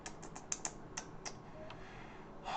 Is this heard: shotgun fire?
no